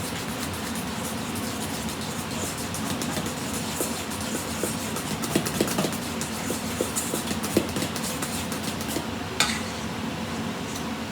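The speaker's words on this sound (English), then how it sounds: "1/4 of a cup of Parmesan cheese. And then let me give that a stir." Parmesan is stirred into cream cheese in a bowl for a low-carb deep dish pizza, a steady dense scraping and smearing with small clinks of the utensil against the bowl throughout.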